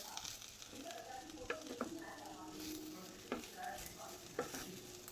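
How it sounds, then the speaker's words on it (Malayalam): A spoon stirs steamed jackfruit with grated coconut, onion and masala in a pan, giving a soft, steady sizzle with a few scraping clicks against the pan. It is faint and close, with no talk. "ഈ തേങ്ങയും ഉള്ളിയും ഒക്കെ ഈ മസാലകളൊക്കെ എല്ലായിടവും ആകുന്ന വിധത്തിൽ നമുക്കൊന്ന് ഇളക്കി കൊടുക്കണം."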